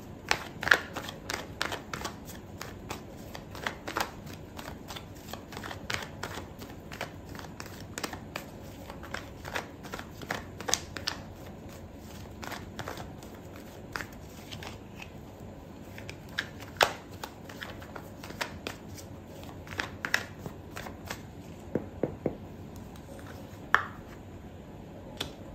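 A deck of tarot cards is shuffled by hand in quick, repeated riffles and flicks, close and crisp, with brief pauses between bursts and no speech.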